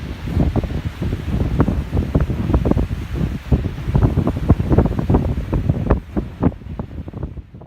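Rising wind in an autumn mountain valley in the Anzasca Valley, Italy, a loud, steady roar buffeting the microphone in gusts throughout, with no voices.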